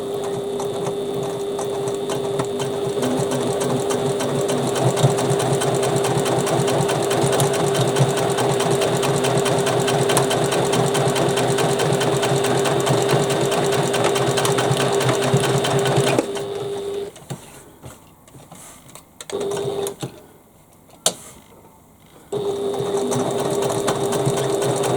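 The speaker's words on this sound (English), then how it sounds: "So we stitch 1/4 inch seam allowance." A sewing machine stitches a quarter-inch seam on a fabric bag panel with fast, steady, mechanical chatter for about sixteen seconds, pauses with a few short bursts, then resumes running.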